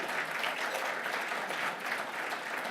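Steady, dense applause from an audience at the WOBA 2018 awards as Will Barton is introduced, filling the space evenly at a loud, unbroken level throughout.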